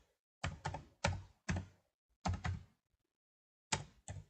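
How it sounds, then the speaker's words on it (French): Typing on a computer keyboard, with short clusters of soft, hollow key taps separated by brief silences, close and quiet, no talking. "Je tape donc Campus France."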